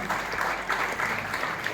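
An audience claps for a guest at an award distribution event, a dense, steady round of applause of medium loudness heard throughout.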